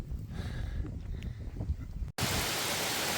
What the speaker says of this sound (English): it just started raining, and now it's downpouring